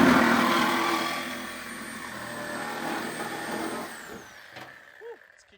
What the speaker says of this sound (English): now I feel like we can cut the cross bit off with the angle grinder too